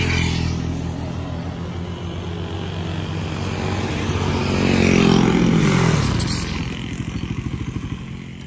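A Bajaj Pulsar motorcycle at an ABS braking test, the engine droning steadily, then swelling as the bike draws near, ending in a rapid, pulsing exhaust putter.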